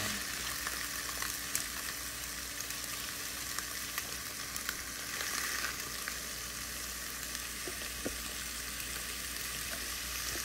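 A steak sizzles inside a closed waffle iron, a steady, close, hissing fry that carries evenly from start to finish, with faint crackles and no voices.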